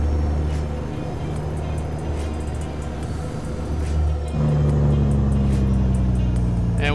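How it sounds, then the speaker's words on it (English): A heavy truck engine with a 15-speed transmission rumbles loudly in American Truck Simulator, its drone shifting to a new steady pitch partway through as it changes gear. "And we'll downshift her into seventh."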